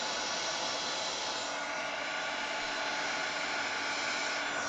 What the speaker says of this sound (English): it wouldn't hurt to give these guys a little shot of warm air